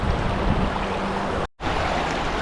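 Murray River water at Jingellic, flowing shallow over a rocky bed, makes a steady broadband rush close by. It breaks off briefly partway through and then resumes.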